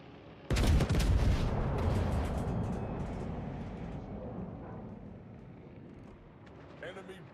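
Naval guns firing in the console game World of Warships: Legends: a heavy broadband blast opens the salvo, followed by a long rumbling roar that slowly fades, with a few faint later thumps.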